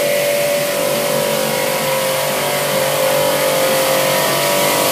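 Car or motor vehicle passing, a loud, steady engine drone with a sustained tonal hum, close and continuous for the whole stretch.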